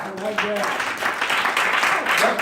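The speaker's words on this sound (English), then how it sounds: "I need you to clap loud by yourself." A church congregation during a sermon breaks into loud, dense clapping that fills the room, mixed with a preacher's voice and shouts rising over the applause.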